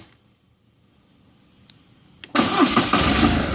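BMW R1200RT-P police motorcycle engine cranks briefly and catches at about two seconds, then settles into a loud, steady close-up idle.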